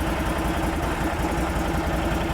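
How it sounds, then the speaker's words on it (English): A Can-Am Defender UTV engine drones loudly and steadily, a continuous low rumbling idle with no clear rise in pitch and no speech. "Rev it up."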